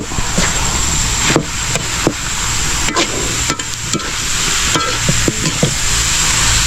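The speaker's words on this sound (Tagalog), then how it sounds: "Pamamantikain natin siya kasi pure na gata" Pure coconut milk from three coconuts sizzles steadily in a pan as it cooks down into oil, a constant frying hiss broken by the occasional tap and scrape of a stirring utensil.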